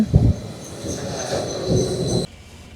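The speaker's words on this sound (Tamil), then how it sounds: "நாங்கள் பேசலுக்கு போக வேண்டிய ரெயின் வந்துட்டு" A train arriving at a Swiss station on a night with a Christmas market, a steady rumbling roll with a faint high squeal of wheels, close and fairly loud, cutting off abruptly near the end.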